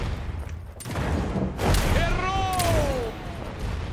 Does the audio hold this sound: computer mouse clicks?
no